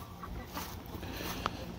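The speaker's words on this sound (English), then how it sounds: "They're all roosters." Soft clucking from roosters nearby, faint scattered calls against a quiet outdoor background.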